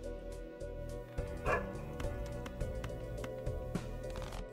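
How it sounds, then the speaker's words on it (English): Dogs bark and yelp repeatedly in the background, fairly loud, mixed with a low steady drone and occasional clicks, no clear talk. "Dogs are losing their minds right now."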